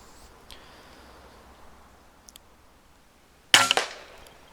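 A single sharp gunshot fired at a squirrel while hunting, loud and close, with a brief decaying tail after a few seconds of quiet outdoor ambience and faint clicks.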